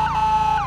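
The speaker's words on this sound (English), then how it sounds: "let me turn on my double siren and my horn for you" A police car siren in a roleplay video game, wailing in two repeating upward-to-steady sweeps, loud and close with no talk over it.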